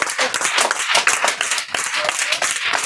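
Students in a free government-school class clap loudly for classmates' first test results, brisk close clapping throughout with voices mixed in.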